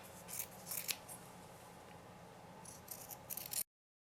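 Scissors snip through fabric while a heart shape is cut out for a stuffed sewing project, giving several short crisp cutting bursts close by over a quiet room, with no talking.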